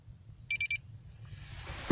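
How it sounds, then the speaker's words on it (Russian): A Yupiteru VE-E030H engine autostart unit, fitted to a Honda N-WGN Custom, gives a short burst of three quick high buzzer beeps. The beeps are close and clear over a quiet background. "Если вы слышите, идет небольшой писк от блока автозапуска."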